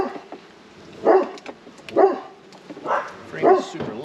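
A dog barks in several short bursts at moderate distance, spaced roughly a second apart, over a steady low background hum, with someone nearby who has just lit a smoker before pulling frames from a queenless beehive.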